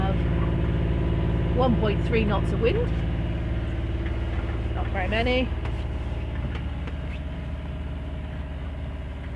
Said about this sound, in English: we have the engine on